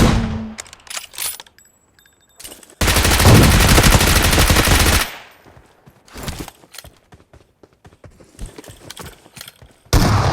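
Rapid automatic and shotgun-style gunfire from a PUBG Mobile match, loud and close, with scattered single shots, a long sustained burst in the middle and another burst starting at the end.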